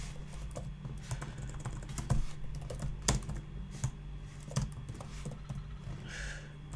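Someone types on a computer keyboard in an irregular patter of soft key clicks, with a few sharper taps over a low electrical hum, close and fairly quiet with no talk.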